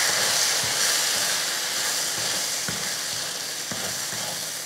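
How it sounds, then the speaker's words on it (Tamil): Spice masala fries in oil for a kulambu, giving a continuous close sizzle and hiss with a few soft stirring knocks, and no one talking. "இந்த அளவுக்கு எண்ணெயில் அந்த மசாலாவை வதக்குனதுக்கு அப்புறமா"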